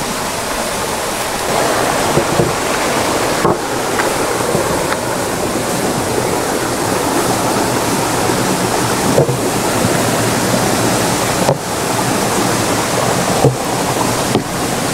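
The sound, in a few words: stream water babbling near a cave temple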